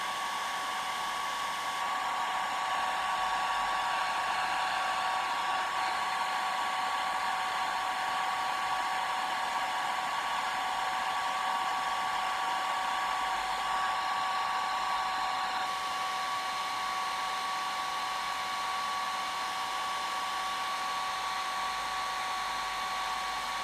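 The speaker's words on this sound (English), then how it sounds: "let me blow dry this again" A hair dryer blows steadily on a watercolour landscape painting, a loud continuous whine with a constant pitch that holds for over twenty seconds, shifting only slightly in airflow partway through, with no talking.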